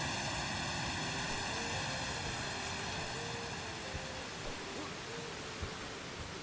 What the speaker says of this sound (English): Very loud waterfall.